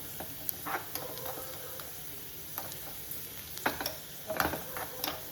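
Onions fry in a pan until they turn red while making Basale Pundi, a Tulu-style dish. A steady, fairly soft sizzle runs throughout, broken by sharp clicks and scrapes of stirring, with no talking.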